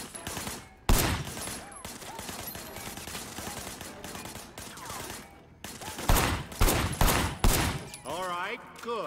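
Bursts of gunfire in the video game Sleeping Dogs: rapid volleys and single loud shots break out in clusters against a steady game background, with a voice speaking between them.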